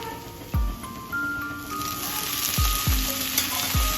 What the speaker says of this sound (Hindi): पहले गोभी डाल रहे हैं।